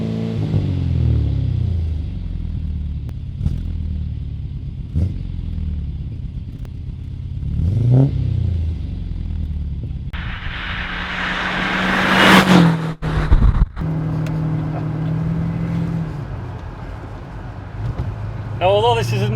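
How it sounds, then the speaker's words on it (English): A London taxi fitted with a Rover V8 engine rumbles and revs up close, its throaty drone rising and falling with a sharp surge partway through while someone talks over it. "we can listen to that soundtrack what's given out by that beautiful Rover V8, what Gary's put into it."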